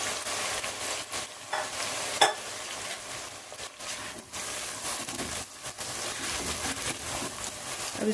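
Sliced onions frying in plenty of hot oil on a medium flame give a loud, continuous crackling sizzle, with stirring scrapes and one sharp knock of a utensil on the pan.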